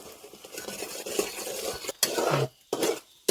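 Chili powder and turmeric stirred in a frying pan for a Kerala village-style vegetable curry, a spoon scraping and clinking against the metal pan with faint sizzling and a few sharp knocks near the end.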